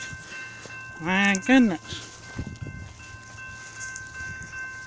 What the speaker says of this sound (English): And it's a freight train.